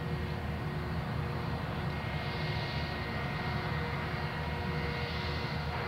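An aircraft taking off from runway 03 at Perth Airport, a loud continuous engine roar that stays steady throughout without any talk.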